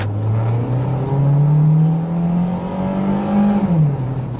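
Toyota Corolla engine revving under load after repairs for a water and oil leak, a loud close drone that climbs in pitch, holds high, then drops back as the revs fall.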